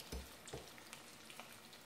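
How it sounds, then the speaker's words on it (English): Chicken pieces deep frying in hot oil in a home kitchen, with two brief bursts of sizzle near the start and then a steady, moderately quiet bubbling crackle throughout. "We are deep frying it."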